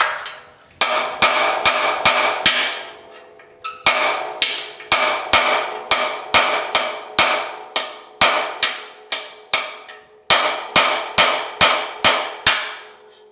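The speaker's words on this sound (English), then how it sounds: "let's just start hammering on this thing, see if we can knock that big old dent out" Hammer blows knocking a dent out of stiff steel chassis metal on a GTO restomod, struck in quick bursts of five to seven sharp ringing hits separated by short pauses, loud and close.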